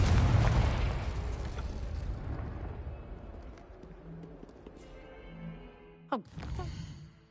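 A Confringo fire-spell explosion from the video game Hogwarts Legacy bursts loudly at the start and decays into a long fading rumble, followed by a brief sharp whoosh near the end.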